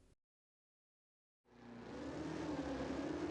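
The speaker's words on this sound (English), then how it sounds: "The C7 Gr.3 road car with the engine swap is a fairly active drifter." A Chevrolet Corvette C7 Gr.3 road car with a swapped engine, drifting at Suzuka in Gran Turismo 7. Its engine roar cuts in after more than a second of silence and holds loud and steady.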